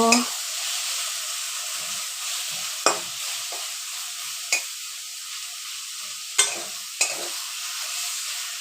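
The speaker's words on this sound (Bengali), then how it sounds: "সুন্দর করে ভালো করে নেড়ে চেড়ে ভেজে নেব" Red amaranth leaves are stir-fried in a pan with a constant loud sizzle and hiss, broken by several sharp scraping clacks from a spatula at uneven intervals, close up.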